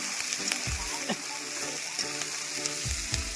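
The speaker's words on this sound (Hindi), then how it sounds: "चिकन बना रही है चिकन।" About 1.5 kg of chicken frying in a pan for a family meal of chicken and rice: a continuous sizzle with repeated low thumps and scrapes of stirring, moderately close.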